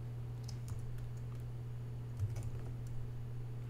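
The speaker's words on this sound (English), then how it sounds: "We're going to go ahead and hit G on our keyboard." Computer keyboard keys tapped while working in After Effects, a scattering of light, faint clicks over a steady low hum in a quiet room.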